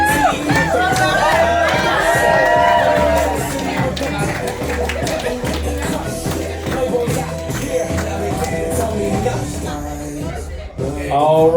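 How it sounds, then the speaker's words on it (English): Guests at a Vero Beach Yacht Club wedding cheer and shout as the bridesmaids make their entrance, a loud continuous crowd roar over music that fades toward the end, with some clapping and voices. "Big cheer for the bridesmaids."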